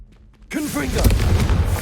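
After a quiet start, a Confringo fire spell goes off in Hogwarts Legacy with a sudden loud burst, then a dense crackling, rumbling blast that holds steady to the end, with a brief voice mixed in.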